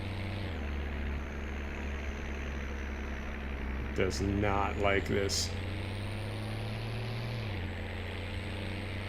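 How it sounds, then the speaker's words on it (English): A tractor engine in Farming Simulator 17 drones low and steady as it labours, with a brief rise in pitch partway through. Someone speaks over it in the middle. "Oh, that is one angry tractor."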